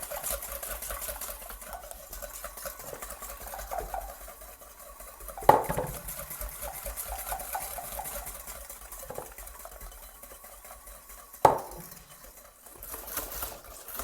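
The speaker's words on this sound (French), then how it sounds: "Je vais y ajouter progressivement le sucre en mélangeant énergiquement" A whisk beats eggs with sugar in a mixing bowl for cookie dough, giving a steady close scraping patter with two sharp clinks against the bowl.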